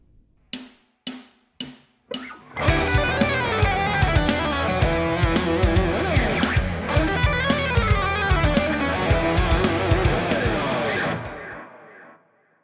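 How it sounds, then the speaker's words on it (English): A few sharp muted hits open, then an electric guitar bursts into a fast, dense run of notes that rings out and fades. "This is a chromatic lick involving hybrid picking,"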